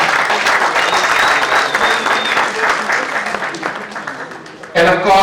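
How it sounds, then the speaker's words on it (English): An audience applauds steadily for several seconds, a dense close clatter of many hands that fades slightly before a voice cuts in at the end. "Please help me clap for her."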